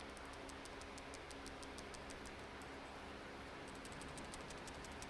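A worn PCV valve from an Infiniti G37 is shaken by hand, giving a faint, quick, regular ticking that runs steadily under a quiet background hiss.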